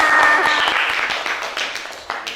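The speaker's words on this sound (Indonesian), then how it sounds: "Tepuk tangan untuk kita semua." A classroom group gives a short burst of applause, dense clapping that thins and fades over a couple of seconds.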